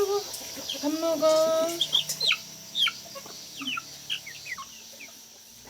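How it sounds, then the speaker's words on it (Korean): Half-grown chickens of a French-origin European breed roam a small farm field, clucking and chirping nearby in a steady, uneven chatter, with a faint voice briefly in the background. "바로 요 닭들이죠."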